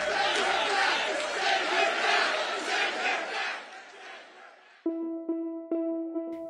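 A large crowd at a Trump rally roars and chants loudly for several seconds before fading, followed by a few sharp sustained tonal blasts over near silence.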